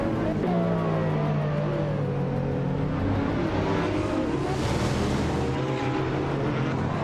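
Racing cars roar together at the Kazan Ring in a video game, a 2014 Citroen GT among hypercars, with dense sustained engine drone and shifting pitches, loud and continuous with no voices.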